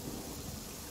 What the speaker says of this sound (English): it's still kind of surprising how a paper is not so dripping wet from all this rain